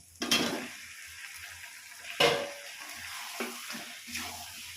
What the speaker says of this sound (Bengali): এবার দিয়ে দিচ্ছি ভেজে রাখা আলুগুলোকে।